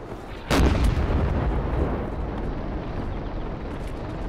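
A tank cannon shot in a video game booms out loud and close, a single blast at the start followed by a long rumbling decay under steady background noise.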